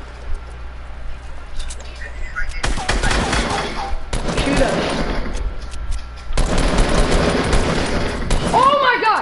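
Fortnite gunfire crackles in loud dense bursts, broken by short pauses, with a voice speaking over the shooting.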